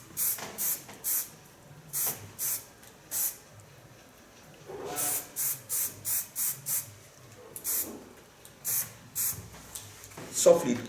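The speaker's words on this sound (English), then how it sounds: "So I take only a bit of hairspray." Hairspray sprayed lightly onto a bob haircut comes as a long series of short, close, hissing bursts in an uneven rhythm, with a few longer sprays among them.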